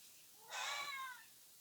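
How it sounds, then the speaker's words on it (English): A very old cat, nearly 20 years old, gives a single clear meow lasting under a second, heard alone in a quiet room at moderate distance. "Just ignore the cat."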